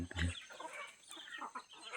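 Native chickens cluck and murmur nearby in a loose, irregular chatter, with one louder low call at the start.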